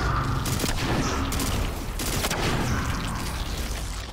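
Sustained gunfire in Destiny 2 as weapons shoot at targets, a dense loud stream of shots with a few heavier booming bursts, running continuously with no voices.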